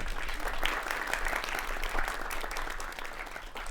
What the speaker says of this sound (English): We have a round of applause for